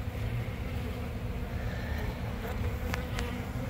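Dense, steady buzzing of many honey bees being dumped from a vacuum catchment into a box, close and continuous, with a low rumble underneath and no talking.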